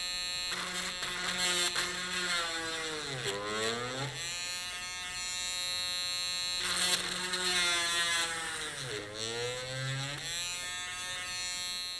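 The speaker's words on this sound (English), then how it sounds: "Switch on the drill ." A small electric drill bores holes in a homemade printed circuit board, giving a high, buzzing whine. There are two long runs, each ending as the motor pitch sags and then recovers. The sound is close and steady, with no talk.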